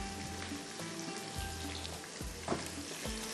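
Chicken cooking in a pan on the stove with the heat turned low: a steady soft sizzle and frying crackle, with several low knocks and a scrape in the middle, no talking.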